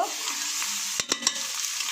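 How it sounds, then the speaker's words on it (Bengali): Spice masala with coriander powder, salt and turmeric sizzles steadily in a pan while being stir-fried for a hilsa curry with vegetables, a constant close hiss broken by a few scraping strokes of a spatula. "এখন আমরা সুন্দর করে কষিয়ে নিব"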